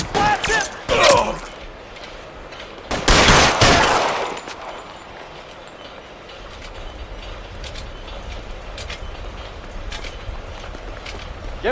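Gunfire in a shootout in L.A. Noire, with two loud bursts of rapid shots close by followed by a quieter stretch of background noise.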